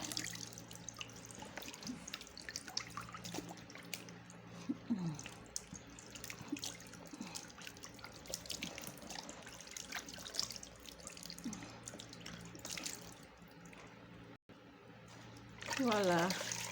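Warm water runs steadily while a rice flour face scrub is rinsed off, a continuous close splashing and trickling under a faint background hum, with a louder gush near the end.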